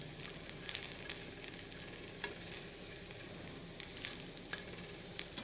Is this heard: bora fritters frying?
yes